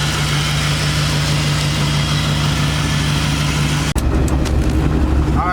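A Volvo 240 with a swapped-in LS V8 idles with a loud, steady low rumble and an even hum. A sharp click or cut near the end is followed by a deeper, rougher note.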